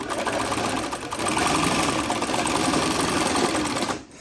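An industrial sewing machine stitching through veg tan leather at high speed, a loud, steady rapid mechanical clatter and whir that holds throughout before cutting off at the end.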